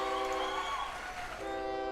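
A train running in the OpenTTD railway game on a high-speed network, a continuous tonal hum with horn-like harmonic tones sustained across the whole stretch.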